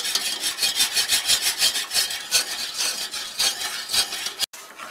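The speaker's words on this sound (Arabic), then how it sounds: "لازم نبقى دائما نحرك بلا ما دون توقف" A spoon stirs mahalabia pudding in a pot over heat, a rapid rhythmic scraping and rubbing against the pot bottom, close and continuous, ending with a brief pause.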